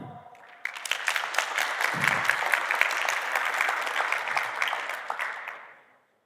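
Audience at a tech network gateway event applauding the core team, a sustained wave of dense clapping that swells quickly, holds steady for several seconds, then fades out.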